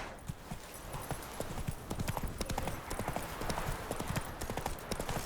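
Roach the horse galloping in The Witcher 3, hooves pounding in a fast, steady clip-clop rhythm, close and continuous throughout.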